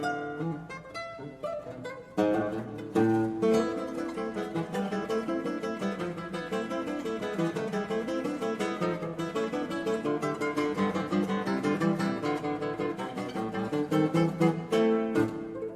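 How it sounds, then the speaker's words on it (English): Block chords played together in a dense, steady stream of sustained harmony, loud and continuous with no talking over them. "So what happens if you play that as block chords?"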